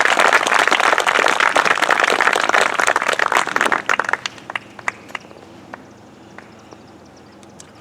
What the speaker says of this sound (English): How about one more round of applause for those who have served our country?